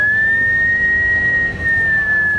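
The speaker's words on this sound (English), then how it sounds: "Why are you whistling like that?" A person whistles a single sustained, slightly wavering high note, loud and close, with a brief dip near the end.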